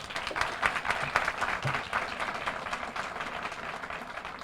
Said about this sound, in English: let's give our 22 remarkable graduates a round of applause